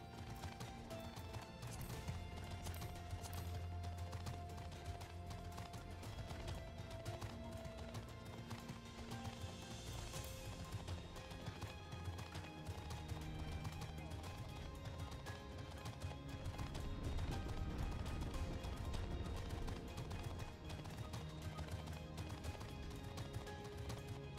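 Mount hooves clip-clop steadily while riding through mountainous terrain in Final Fantasy 14 (Stormblood, Abanisches Grenzland), a continuous rhythmic patter set under game music and ambience at moderate level.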